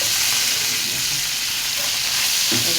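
Fish frying in a pan for a Bengali home-cooked meal gives a steady, dense sizzle and crackle that keeps going without a break, close and fairly loud, with no talking.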